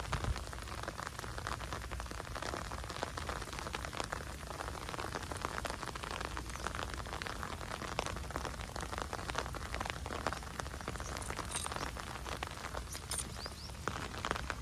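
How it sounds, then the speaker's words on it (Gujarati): Rain falls steadily in a village, a dense, even patter of drops on surfaces filling the whole stretch with no letup. "અત્યારે હાલમાં વરસાદ ચાલુ જ છે, પણ વરસાદ હવે ધીમે ધીમે વધતો જાય છે"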